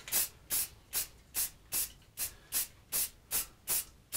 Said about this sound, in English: I'm just going to try and just have a really light touch with the spray